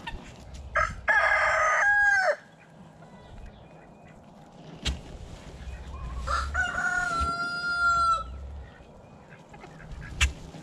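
Roosters crow loudly twice, a few seconds apart, over quieter clucking and background farmyard noise.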